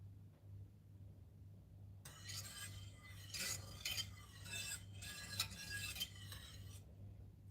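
Metal utensil scraping and stirring semolina in a metal pan in irregular rasping strokes, close by, over a steady low hum.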